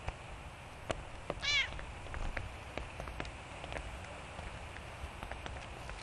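A single short cat meow rises and falls near the middle, close and fairly clear, over a steady patter of rain on a hard surface with scattered drip clicks and no talking.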